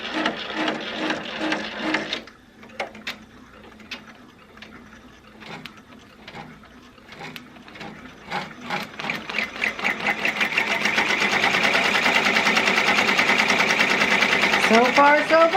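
A Baby Lock Enterprise embroidery machine starts stitching with a few sparse mechanical clicks, then ramps into a fast, steady, loud rattling needle rhythm that continues to the end, heard up close.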